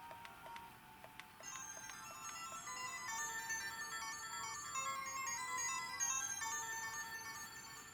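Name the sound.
handheld game console mono speaker audio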